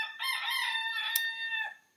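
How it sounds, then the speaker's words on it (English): A rooster crows once, loud and close, its drawn-out call lasting nearly two seconds before trailing off, with no talking. "We have a very active rooster,"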